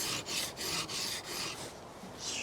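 A knife blade is drawn along the stone of a KMFS Vantaedge sharpener in repeated close rasping strokes, about six in a row with a short gap between each.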